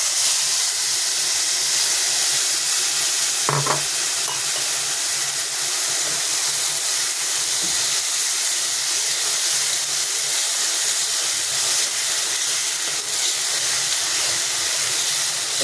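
Marinated shrimp sizzle in hot oil in a wok on a gas stove, a loud steady frying hiss that carries on without a break, with a faint clink of the pan partway through.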